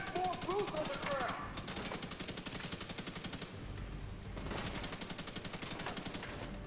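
A small SMG firing in the video game The Division 2, rapid evenly spaced automatic bursts, loud and close, in long strings broken by short pauses, with game sounds and a voice under it.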